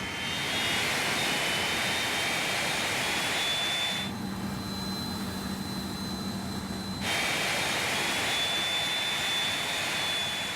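Aircraft jet engine number 3 running at low idle after a repair on the Orbis flying eye hospital plane: a steady, loud turbine roar with a high whine, changing tone for about three seconds in the middle before returning.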